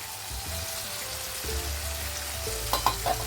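Dry spices cook with softened tomatoes in a pan for mixed vegetable curry, a steady close sizzle under a low electrical hum, with a few quick stirring scrapes near the end.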